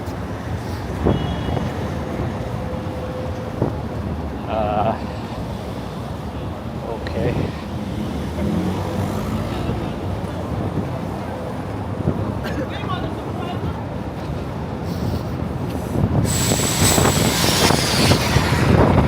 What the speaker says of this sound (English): That's a strong wind.